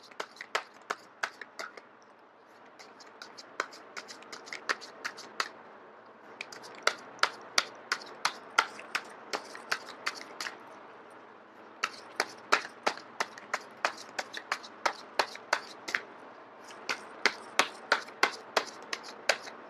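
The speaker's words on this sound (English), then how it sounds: "I am going to shuffle until the first card drops out." Tarot cards being shuffled by hand in quick bursts of crisp, sharp riffling clicks, several rapid runs separated by short pauses, close and fairly quiet.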